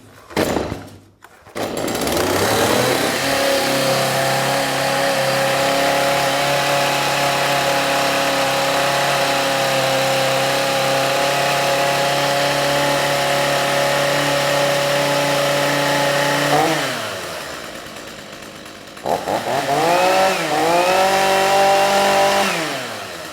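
A STIHL MS 182 chainsaw with ErgoStart runs with a loud, steady engine drone for about fifteen seconds, briefly drops off, then revs back up close by, with no talking.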